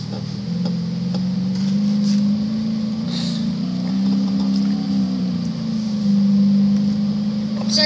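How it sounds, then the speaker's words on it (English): A BMW race car driven by AI runs with a steady, droning engine note that holds a constant pitch and swells slightly at times, heard alone without talk. "So if you wanna see them drive a BMW."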